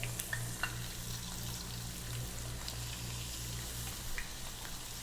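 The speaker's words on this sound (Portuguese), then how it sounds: "Com o óleo ali já quente, nós pegamos aqui e vamos iniciar a fritura das nossas batatas" Potatoes deep-frying in hot oil give a steady, dense crackling sizzle with occasional sharper pops, close by and without talk.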